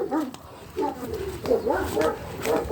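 A dog barks repeatedly at a farm, close and loud, with someone talking over it throughout.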